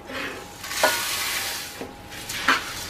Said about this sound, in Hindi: धीमी आंच पे लगातार चला के इसे मिक्स कर लेते हैं